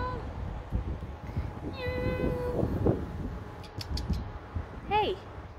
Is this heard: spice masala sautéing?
no